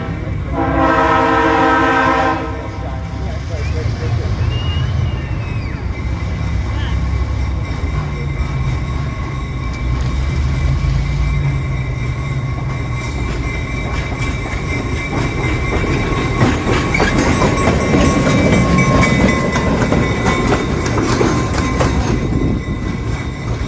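Conrail diesel locomotive 8905 rumbles past at the B&O Railroad Museum with a loud, steady engine roar, a horn blast sounding early on, and wheels clacking over the rails as it goes by.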